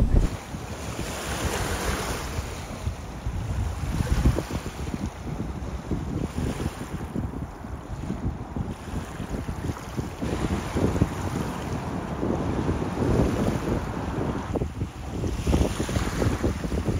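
Steady wind buffets the microphone outdoors on open water during testing of a self-propelled dragon-shaped water attraction, a continuous rough rumble with gusts and lapping water underneath and no speech.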